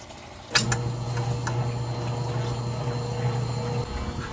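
A washing machine running in a garage, a steady low motor hum starting abruptly after a click and holding evenly for about three seconds, with a faint background wash of water and machine noise.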